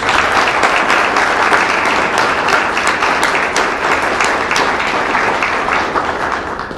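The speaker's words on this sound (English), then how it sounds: "could I just ask for one more round of applause for these young folks?" A full room gives a sustained round of applause for young participants at a Veterans Day ceremony held indoors: dense, loud clapping from many hands that holds steady throughout with only a slight fade at the end.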